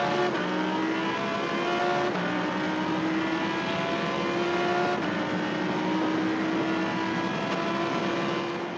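Onboard a Lamborghini Huracán Super Trofeo race car at Sepang, the engine screams loud and steady, with pitch climbing through each gear and dropping sharply at shifts every couple of seconds.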